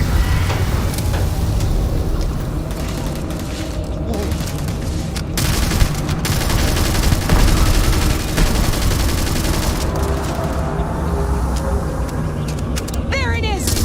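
Sustained gunfire and explosive bursts in a high-level modded Starfield surveying mission, loud and dense throughout with rolling combat noise, while voices shout over the fighting.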